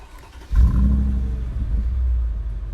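A Mercedes-Benz G55 AMG engine starts after a quiet moment, catching with a sudden burst and settling into a deep, loud, steady idle rumble, heard close.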